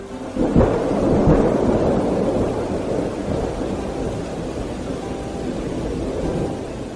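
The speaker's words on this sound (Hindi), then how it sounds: "फिर अचानक से एक बार बहुत तेज बारिश हुई।" Heavy rain pours steadily with a loud rumble of thunder rolling in early and fading into the downpour.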